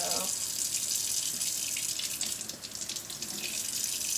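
Hands scrub charcoal off under running water at a sink, a steady close hiss of flowing water with soft splashing.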